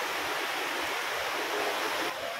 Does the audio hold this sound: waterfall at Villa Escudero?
yes